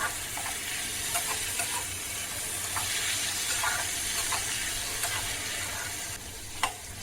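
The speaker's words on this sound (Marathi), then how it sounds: "जी डाळ घेतली होती ती स्वच्छ धुवून घेतलेली आहे ती आपण त्या ह्या फोडणीमध्ये टाकून थोडी परतून घ्यायचं" Washed masoor dal hisses and sizzles in a hot tadka of oil and spices, a steady close crackle broken by a few clicks of a spoon against the pan, with no talking.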